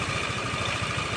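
A Yamaha NMAX scooter engine idles steadily while overheating, coolant being bled, a continuous even mid-pitched hum with a low pulsing rumble, close and unbroken.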